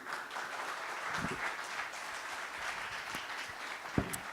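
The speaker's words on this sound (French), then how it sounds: "Vous l'applaudissez." Audience applause at a conference on road equipment as the president is welcomed on stage: moderate, fairly distant clapping that stays even throughout, with a sharper clap or knock near the end.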